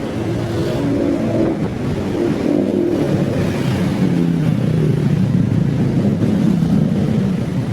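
Motorcycles and other traffic pass on a busy city street at EDSA corner Kalayaan Avenue in Makati, producing a loud, continuous drone of engines with shifting revs and wind buffeting the microphone.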